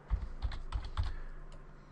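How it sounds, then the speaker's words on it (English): Fingers tap computer keyboard cursor keys in a quick run of four distinct presses followed by lighter clicks, close and fairly quiet with no talking. "Now I'm going to push the cursor keys here, so save me typing it all out again"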